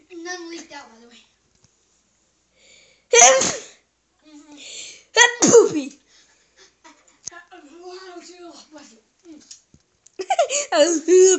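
A sharp, loud sneeze bursts out close by among people talking and laughing indoors, followed by another strong sneeze-like outburst a couple of seconds later.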